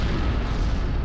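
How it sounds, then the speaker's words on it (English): Catastrophic cosmic explosion rendered as a sustained, heavy low-end roar with dense rumbling, loud and continuous throughout, with no voices. "Heavy elements like uranium can only be created in a catastrophic cosmic explosion."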